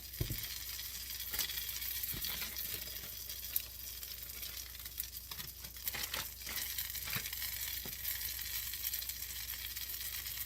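A mushroom and gouda cheese omelette cooking in a pan on low heat gives a soft, steady sizzle with faint crackles and occasional light clatter, with no talking.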